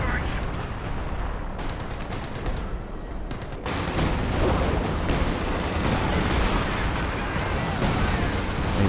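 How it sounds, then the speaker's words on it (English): Heavy artillery barrage in Company of Heroes 2, a continuous rumble of shells landing and crackling blasts, loud and sustained, with a commentator speaking over the bombardment. "Oh man, that major artillery going to town on these retreating squads."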